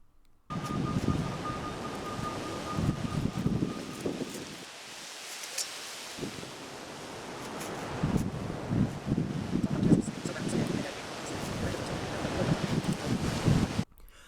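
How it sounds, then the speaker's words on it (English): A brisk breeze blowing through a fall garden on a cool overcast day, with gusty rumbling wind noise buffeting the microphone in waves, easing briefly in the middle before rising again. "that breeze was a pretty brisk wind"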